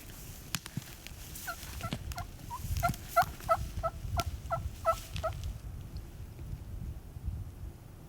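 Several distant wild turkeys gobble in a rapid cluster of calls in Montana, heard faintly over wind noise and outdoor rumble.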